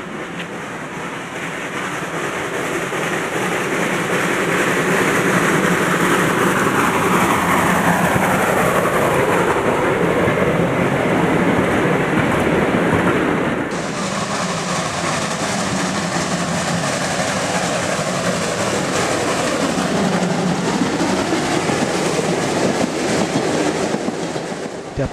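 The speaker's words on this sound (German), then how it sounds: "Wir begleiten den Traditionszug ein Stückchen." A steam train on the Brocken line in the Harz rumbles past close by, a loud continuous roar of wheels on rails with a steady hiss throughout.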